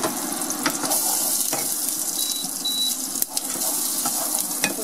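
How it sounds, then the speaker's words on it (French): Butter melting in a small cast-iron cocotte gives a steady crackling sizzle with sharp pops scattered throughout, close and fairly loud, with no talking. "Dans la petite cocotte, je mets à fondre un peu de beurre."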